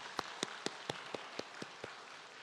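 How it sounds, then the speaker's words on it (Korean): An Easter service congregation in a church claps in unison: about nine crisp, evenly spaced claps in a steady quick rhythm, fairly faint and with no talking over them. "우리 박수로 영광 올려드리도록 하겠습니다"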